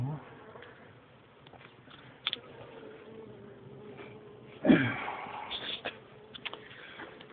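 Honeybees in a full hive give a steady, close buzzing drone that swells into a louder burst partway through, with a few brief knocks and rustles from handling the hive.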